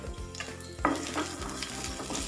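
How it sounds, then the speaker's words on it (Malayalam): Dried red chillies and small shallots sizzle steadily in hot oil in a pan, close and continuous, with a sharper crackle and some stirring partway through. "ഈ ഉണക്കമുളകും ചെറിയുള്ളിയൊക്കെ വറുത്തിട്ട് കഴിഞ്ഞാൽ നല്ലൊരു ടേസ്റ്റാണ്"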